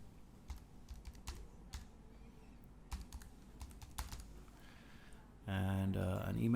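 Quick, light keystrokes on a computer keyboard as details are entered into a web form, tapping in irregular bursts at close range, followed by a sudden burst of louder tonal noise at the end.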